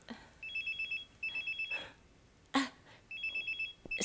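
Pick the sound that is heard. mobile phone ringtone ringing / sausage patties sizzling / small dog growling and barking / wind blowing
mobile phone ringtone ringing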